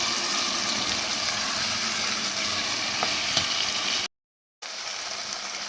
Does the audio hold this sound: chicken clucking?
no